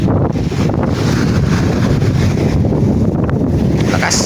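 A strong northeast monsoon wind blows across the open sea around a fishing boat, a loud, constant roar of gusting air and microphone buffeting with the rush of water beneath it.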